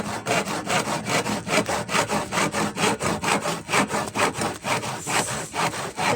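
A hand saw cuts through wood for a doormat frame in steady back-and-forth strokes, roughly two per second, close and even, with no talking.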